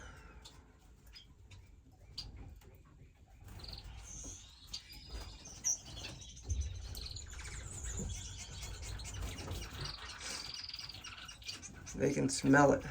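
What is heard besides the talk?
pet finches and birds chirping at feeder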